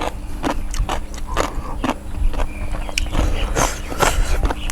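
A crunchy raw vegetable is bitten and chewed up close, eaten alongside an Ubon Ratchathani-style khao pun sao, with a rapid series of crisp, irregular crunches under a low background rumble.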